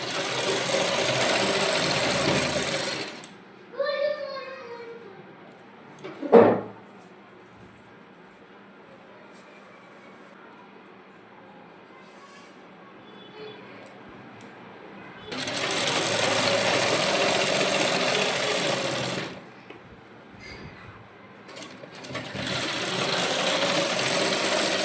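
A sewing machine stitches a baby frock in two loud, steady whirring runs up close, separated by a quieter stretch with brief clicks and handling noises.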